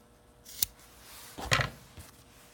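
Scissors snip through paracord while a zipper pull is made, two or three quick, close crisp cuts in a quiet room.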